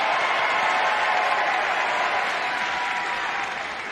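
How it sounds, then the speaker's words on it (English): A Ring of Honor wrestling crowd in Rhode Island cheers and applauds during a match, a loud, sustained roar of clapping and voices that eases slightly at the end. "Crowd here in Rhode Island coming alive off the ropes"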